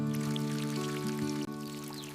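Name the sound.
watering a freshly potted lemon tree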